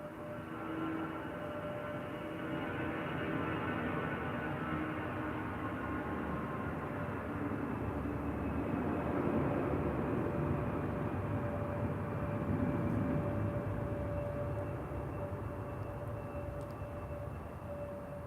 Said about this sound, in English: A319 on the takeoff roll